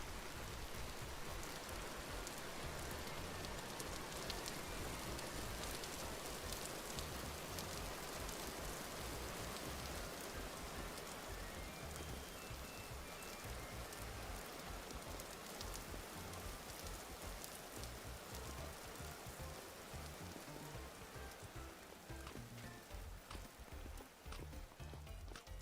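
A steady rain downpour in the Vintage Story video game hisses without a break, with dense raindrops spattering on surfaces throughout at an even, moderate level.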